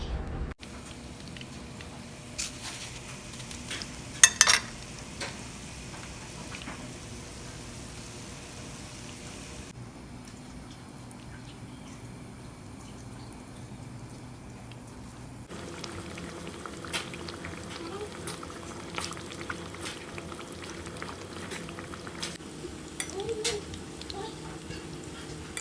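Tilapia fillets coated in cornflakes and carrot frying in oil, Mexican style, giving a steady, fairly quiet bubbling crackle with scattered pops and a brief softer stretch midway, no talk.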